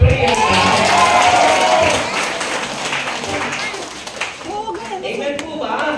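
A church congregation in Bignay, Lobo, Batangas applauds in a brief burst of loud crowd clapping that fades after a couple of seconds as a voice carries on speaking over the room.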